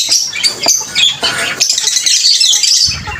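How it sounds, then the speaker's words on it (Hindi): Pigeons crowded together in a cage give off squawks, chirps and fluttery pattering sounds close by, busy and continuous with no talking. "और ये इतने वाले कबूतर हमने अपने रख दिए साथ ही एक जगह कर दिए।"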